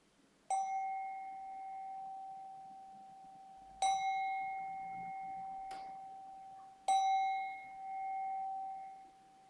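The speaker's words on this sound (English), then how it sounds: "bringing the practice to a close when you hear the bell." A bright meditation bell rings three times at spaced intervals, each strike clear and resonant, its tone lingering and fading in a quiet room.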